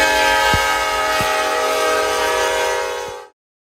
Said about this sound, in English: Florida Gulf has officially built their train and now is ready to depart